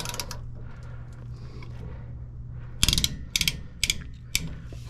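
A ratchet loosens the wheel bearing nut on the rear axle of a Ford F350 with a Sterling 10.25 dually axle, first with faint steady clicking, then with several loud, close, sharp ratcheting bursts in the second half.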